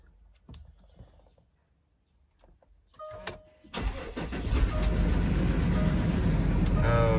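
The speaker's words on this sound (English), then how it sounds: "so the car has started." A 2012 Range Rover Sport SDV6 diesel with the hood open cranks and starts after some quiet clicks. It catches with a loud rising roar, then settles into a steady, close idle.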